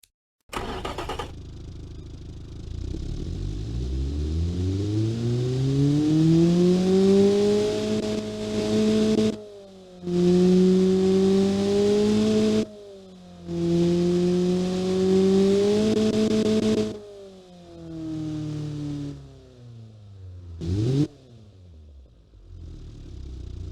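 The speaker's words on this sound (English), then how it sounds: "this is what this naturally aspirated 2-liter engine looks like" A naturally aspirated 2-liter car engine revs up repeatedly from idle, pitch climbing and holding in several sustained bursts separated by brief drops, loud and close with no voices.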